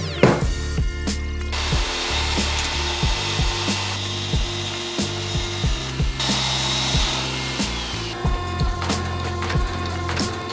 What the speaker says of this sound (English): We're gonna cut up the steel,